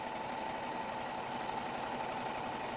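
A serger sewing machine runs steadily as it sews out its threads, a continuous fast mechanical whir and hum without pause, fairly quiet and close.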